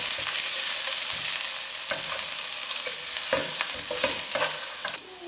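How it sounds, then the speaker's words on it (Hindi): Garlic sautéing in ghee for a potato swiss roll, a steady close sizzle broken by repeated clicks and scrapes of a spoon stirring in the pan, fading slightly at the end. "उसमें ये 1 टेबलस्पून लहसुन डाल रहे हैं और इसको सौते कर रहे हैं।"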